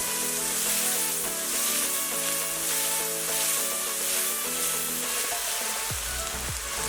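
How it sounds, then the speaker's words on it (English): Ground shallots, ginger and garlic sizzle loudly and steadily in hot oil for a red chicken curry, a dense constant frying hiss with a few stirring scrapes near the end, no voices. "Adding in grinded shallots. I'm adding in ginger garlic."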